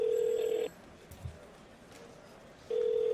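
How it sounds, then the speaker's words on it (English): Landline house telephone ringing with a steady electronic tone, one long ring burst, a pause of about two seconds, then the next ring starting, loud and close with faint background noise between. "You call the house phone."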